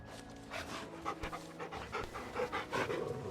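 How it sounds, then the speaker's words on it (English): A dog panting in rapid, rhythmic breaths while being petted in the video game Final Fantasy XVI, close and steady over a low ambient game backdrop, with no talking. "I pet the dog every time we get a sub."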